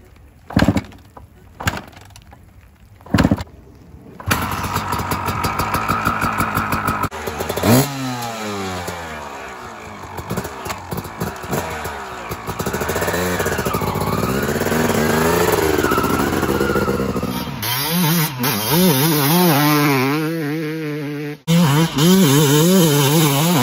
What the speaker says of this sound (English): we're gonna hop on the CR250 two-stroke next and see how that does